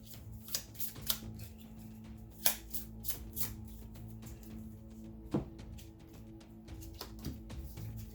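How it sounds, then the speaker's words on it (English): A deck of cards for the Contra board game gets shuffled by hand, a series of crisp riffling and slapping bursts at close range, irregularly spaced, with no talking. "shuffle my deck and draw 2 more cards"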